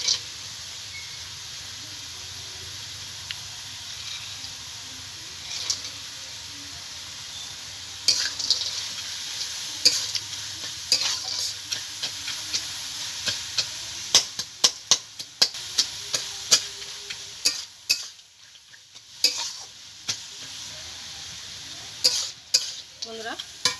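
Fried greens being stirred in a pan with fried nuts, lentil dumplings, cashews and raisins, a faint sizzle under repeated sharp spatula taps and scrapes that grow busier and more frequent midway.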